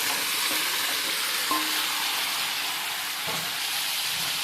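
Chicken frying in a pan makes a steady, loud hiss and sizzle, with a few faint clinks and stirring bumps and no voices.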